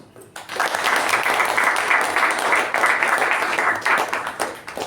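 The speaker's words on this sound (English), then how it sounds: "shall we hear a good round of applause for the outgoing and the incoming officers?" After a brief quiet moment, a Toastmasters club audience breaks into a full, steady round of applause for outgoing and incoming officers, lasting several seconds.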